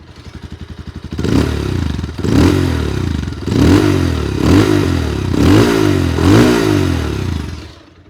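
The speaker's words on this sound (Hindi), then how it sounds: "आपको एग्जॉस्ट नोट सुनाता हूँ इसका।" A Bajaj Pulsar 220F motorcycle idles briefly, then its exhaust barks through a series of sharp, loud revs, about six rhythmic throttle blips close by, before settling and fading.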